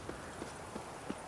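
A horse's hooves clip-clop in The Witcher 3, a faint, evenly spaced series of soft thuds at a walking pace with no voices over them.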